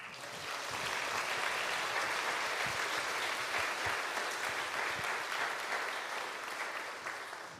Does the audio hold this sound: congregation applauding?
yes